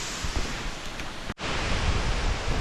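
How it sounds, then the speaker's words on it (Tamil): Steady broadband roar of Thalaiyar Falls, a tall waterfall near Kodaikanal, heard up close as continuous rushing water, loud and unbroken apart from a brief dropout partway through. "இங்கே பாருங்க அருவிக்கிட்டே வந்துட்டோம்."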